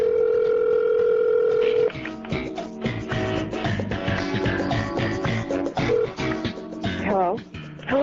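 A steady telephone dial tone plays, then stops as a busy run of tones, clicks and noise follows over a phone line, with voices talking underneath.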